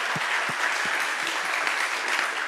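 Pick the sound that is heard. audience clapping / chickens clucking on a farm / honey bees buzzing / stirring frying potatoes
audience clapping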